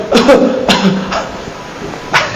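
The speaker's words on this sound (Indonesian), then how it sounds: "Coba kalau dia batuk" Several short, harsh bursts of coughing, loud and close, spaced irregularly over a couple of seconds.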